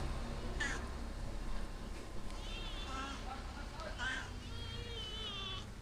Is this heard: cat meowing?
yes